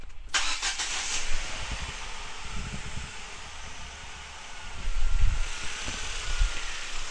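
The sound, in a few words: car engine starting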